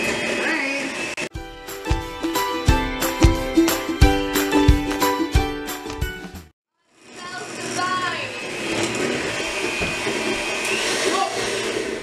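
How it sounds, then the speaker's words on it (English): Electric hand mixer whirring in a home kitchen while cake batter is made, a steady rattling drone with rhythmic clanks against the bowl that cuts off briefly and then restarts, with people chatting over it. "We have a fancy smoky mixer."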